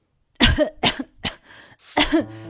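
A woman coughs four times in quick succession, close and loud, from dust stirred up while cleaning a house and dusting cupboards, each cough dry and harsh with short gaps between.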